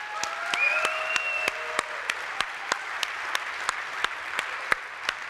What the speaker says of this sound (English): Just a round of applause for them.